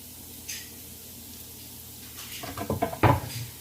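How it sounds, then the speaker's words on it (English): Minced garlic tumbles into a hot pan already holding caramelized red onion for moussaka, giving a quick clatter and rising sizzle after a near-silent start. "mince garlic and add to pan"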